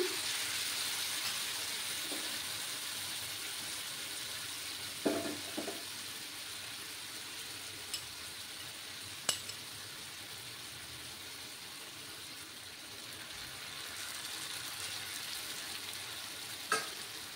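Spices sizzling in a pan for a papaya and soybean curry, a steady, close frying hiss that runs throughout, broken by a few sharp clinks and taps.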